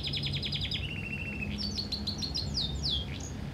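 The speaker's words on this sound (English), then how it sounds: "We've got a bird." Bird chirping in the video game Heavy Rain, a quick series of bright repeated tweets followed by a few rising and falling chirps, clear and close over a low ambient hum, no talk.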